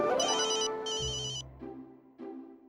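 A telephone ringtone plays alone indoors, a bright electronic melody of several short tonal phrases ringing loudly and clearly for a few seconds.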